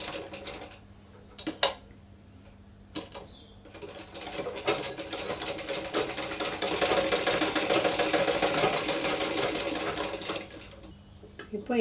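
Sewing machine stitching cloth for half puff sleeves, a steady mechanical whirr running through most of the clip after a few short bursts, fairly close and moderately loud.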